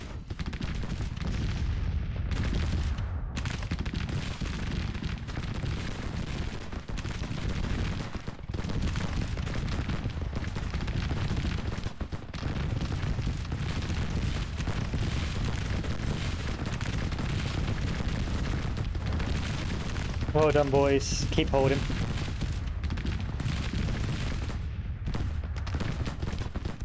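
Cannon and rifle fire from a Grand Tactician Civil War battle, a steady dense rumble of distant volleys and booms throughout, with a brief sharper crackle near the end and a short spoken remark over it.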